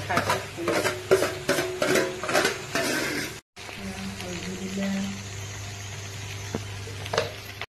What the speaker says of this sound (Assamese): এতিয়া ইয়াতে কঁঠাল গুটিখিনি দি দিলে,